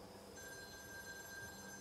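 A telephone rings faintly in the video game Lake, a thin steady electronic tone held above a low hum, with no talking.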